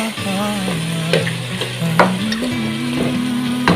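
Chicken salona with tomato paste added fries loudly in a pan: a continuous close sizzle with stirring clatters, over a melodic tone running in the background.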